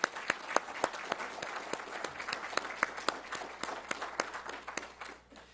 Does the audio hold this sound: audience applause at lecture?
yes